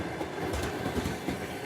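Train rolling along a railway line, a steady broadband rumble that holds at even loudness throughout with faint rhythmic wheel clatter, heard up close and without voices.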